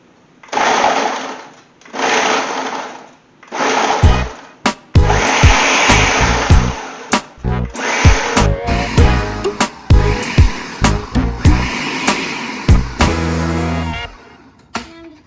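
A food processor pulses rosemary shortbread dough in short motor bursts, first spaced apart and then coming faster. Later come clattering knocks and a longer rattling run, all loud and close.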